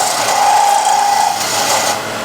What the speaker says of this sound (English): So I'm going to use this as a scraper. Just lightly.